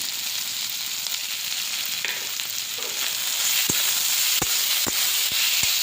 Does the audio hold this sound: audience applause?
no